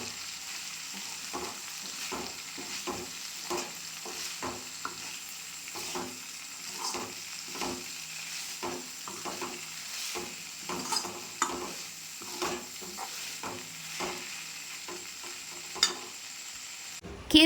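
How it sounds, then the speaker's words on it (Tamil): Vallarai greens sautéed in a pan, a soft continuous sizzle broken by regular scraping strokes of a spatula stirring the leaves, close and moderately quiet with no speech. "இந்த கீரையை போட்டு 1 நிமிஷம் நம்ம வதக்கினாவே போதும்."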